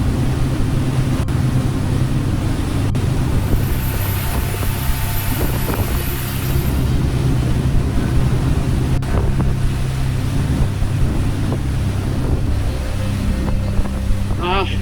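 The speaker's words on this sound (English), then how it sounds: "Seems like that Ford engine just is louder than the other one." A Ford engine aboard a cruising boat drones steadily and loudly throughout, its low rumble mixed with wind buffeting the microphone and water rushing past the hull.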